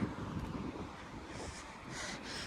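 Strong wind buffets a microphone outdoors on Sheppard Avenue West in Toronto, a steady rumbling roar with gusty swells throughout, loud and close, with no voices.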